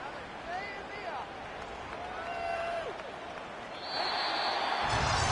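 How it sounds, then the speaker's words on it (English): The home crowd applauds in an Atlanta versus Tampa Bay football video game, swelling into a broad, steady roar of clapping in the last seconds while a commentator talks over it. "the home crowd applauding. They're happy with what they've seen."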